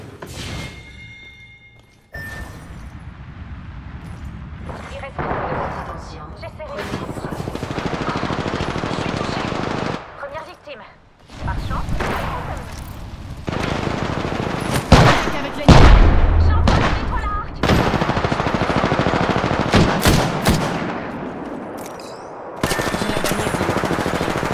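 Heavy bursts of automatic gunfire and shots in Apex Legends, loud and sustained in long stretches broken by brief pauses, with game effects and occasional voices mixed in.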